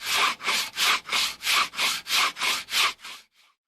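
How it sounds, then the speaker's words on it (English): Sanding a 3D-printed Nerf plasma rifle, about ten evenly spaced rasping strokes in a steady back-and-forth rhythm, close and loud, ending with a faint final stroke and silence. "get on with the sanding and cleaning up the really yucky part of the build"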